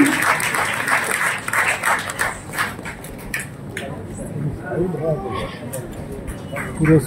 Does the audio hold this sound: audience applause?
yes